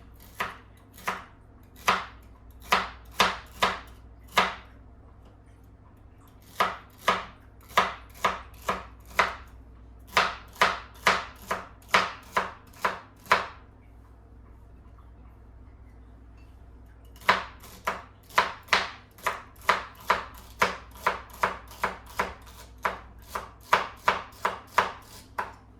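Celery stalks chopped with a knife on a cutting board for a keto ramen soup: quick bursts of crisp, evenly spaced chops in three runs separated by short pauses, close and clear with no talking.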